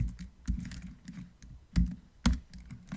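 Someone types code on a computer keyboard in quick, uneven bursts of clacking keystrokes, with a few louder, heavier presses, close and clear with no talking.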